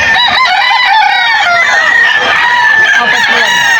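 Chickens and roosters at the Bocaue pet market in Bulacan, a crowd of birds crowing loudly and near, with overlapping cock-a-doodle-doos and clucks layered densely and continuously.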